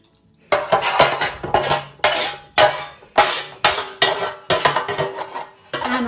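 A metal spoon scrapes and clanks repeatedly against a pan while gravy is made, with a regular rhythm of short, loud, close strokes and no talk.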